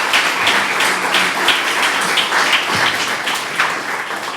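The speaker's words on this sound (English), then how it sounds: "can we give another round of applause" An audience at a celebration of Black poets gives another round of applause, loud and close, with uneven individual claps standing out from a thick sustained patter.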